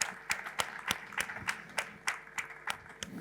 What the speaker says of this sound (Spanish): Le damos un gran aplauso a Paula